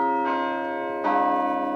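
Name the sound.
Krause Tower bells tolling at Syracuse University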